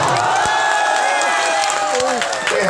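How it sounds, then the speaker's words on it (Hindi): Audience applause at a poetry mushaira gathering in Karhara, Araria: sustained clapping from a crowd that runs through the clip, with a held musical tone and some voices underneath. "एक बार उन लोगों के लिए जोरदार तालियां बजा दीजिए।"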